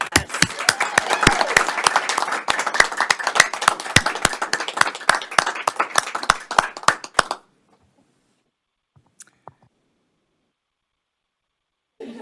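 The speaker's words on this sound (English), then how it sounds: "can we just be loud and clap for these people?" An audience at a state charter school board meeting applauds teachers, a dense, steady burst of many hands clapping for about seven seconds that cuts off abruptly, followed by near silence and a few faint sounds.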